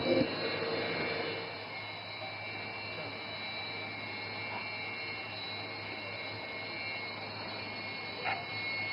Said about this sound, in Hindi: And notice the aircraft is now opening full power.